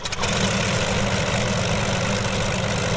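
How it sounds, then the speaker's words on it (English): A P-40B Tomahawk's engine in Microsoft Flight Simulator catches after a brief start and settles into a loud, steady, low rumbling idle with a dense broadband roar, close and continuous. "And then we'll engage the starter. As soon as the engine catches,"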